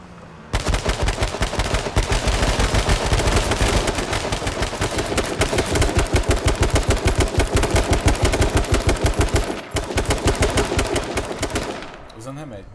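Rapid bursts of automatic gunfire in a video game gunfight rattle almost nonstop, loud and close, with brief pauses before the shooting fades out at the end.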